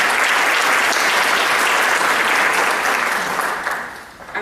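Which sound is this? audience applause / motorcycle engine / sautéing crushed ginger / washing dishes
audience applause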